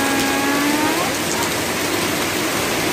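Steady rain pours outdoors in a dense, even patter near a shelter at a primary school, with a vehicle engine humming briefly underneath at the start.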